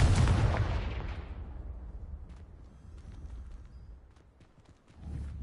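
Confringo fire-blast spell cast in Hogwarts Legacy: a single loud, booming explosion that bursts at once and rolls away into a rumbling decay, with a low thud returning near the end.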